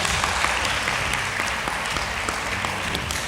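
Audience at a high school debate between Loreto Limuru and Kapsabet, applauding in a dense, steady burst of clapping that holds at an even level throughout and stands alone without any talk.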